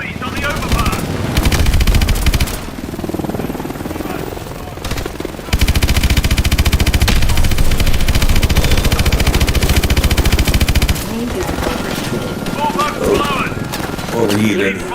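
Heavy machine gun fire in Call of Duty Advanced Warfare, long loud continuous bursts broken by short pauses over an engine drone, with battle noise and voices mixed in.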